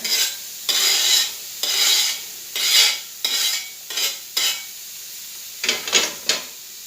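Bursts of loud hissing sizzle come and go as frozen vegetables are stirred in a hot pan, with scraping between the rhythmic surges and no talking.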